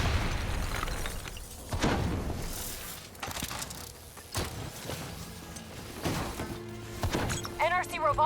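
Rogue robots detonating in Call of Duty Black Ops 3, a series of booming blasts and bursts among crashing game effects and music, with voices talking in between.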